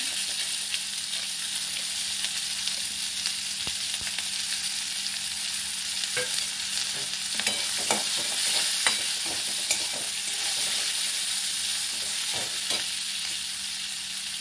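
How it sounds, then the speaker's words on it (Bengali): Chopped onion sizzles in hot oil over a cumin and clove tempering. A steady crackling fry continues throughout, with occasional scraping stirs from a spoon and no talking. "দিয়ে একটা বড় পেঁয়াজ কুচি নিয়েছি, আমি ছেড়ে দিলাম।"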